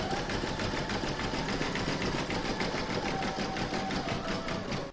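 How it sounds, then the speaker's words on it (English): An embroidery machine zigzag-stitches round 7 of a quilted mandala placemat in the hoop, a steady, loud, rapid mechanical chatter that runs unbroken throughout. "put your hoop back in your machine and stitch round number 7, and that's going to zigzag all the raw edges"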